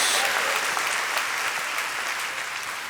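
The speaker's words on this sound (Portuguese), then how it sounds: "Pode dar uma salva de palmas ao nosso Senhor Jesus" Church congregation clapping in a worship service, a dense, sustained wash of applause from many people that holds steady and fades slightly toward the end.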